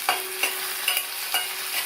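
Chopped onion and tomato sautéing in a pan for a radish side dish, a continuous sizzle broken by four evenly spaced stirring scrapes, close and clear.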